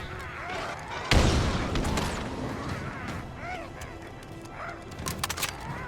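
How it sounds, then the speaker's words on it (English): Grunts blowing up in Halo Infinite, a sharp loud explosion that bursts suddenly and then rumbles away, amid gunfire and combat effects, with faint talk underneath. "these grunts that are trying to suicide will just blow up"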